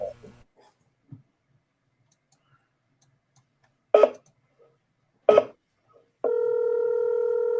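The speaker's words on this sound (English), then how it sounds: "let me just call this seller real quick, see if she picks up" A phone dials out to a seller: a few faint clicks, then two distinct dialing tones, followed by a steady ringback or dial tone that holds to the end.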